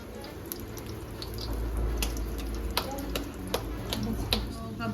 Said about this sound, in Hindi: ऑयल जो हमारा हल्का गर्म है, तो ये कि अब धीरे धीरे पकना शुरू हो गया।